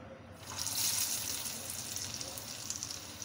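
Calabash and potato kababs frying in hot oil, a steady broad hiss and sizzle that swells after the first half-second and then holds at a near, even level with no talking.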